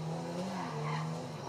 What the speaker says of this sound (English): This car is usually good at drifting, it just depends who's behind the wheel.